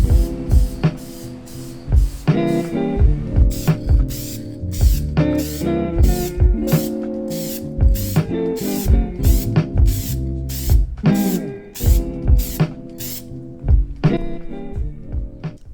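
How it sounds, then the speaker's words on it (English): An aerosol spray can painting sanded car trim from a BMW E46, heard as a quick series of short hissing bursts, close and fairly loud, repeating in an uneven rhythm over background clatter. "And now I'm gonna just spray paint"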